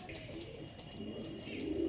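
Low cooing from a female pigeon in a loft, soft and close, with faint chirps from other birds behind it and no talking.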